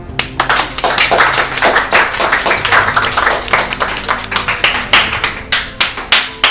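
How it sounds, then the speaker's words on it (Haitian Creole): Audience applause at a gathering, many hands clapping steadily and close for several seconds, thinning toward scattered individual claps near the end, no talk over it. "prend le soin pour applaudir tout"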